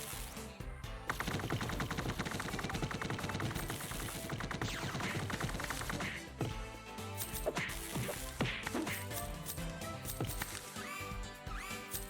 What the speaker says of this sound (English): Oh, take a shotgun to the face there, CG.